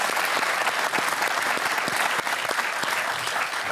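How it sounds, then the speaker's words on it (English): Audience applause fills a Q&A hall after a panel answer, a dense, steady patter of many hands clapping close and loud for several seconds without voices. "Yes, everyone can applaud us."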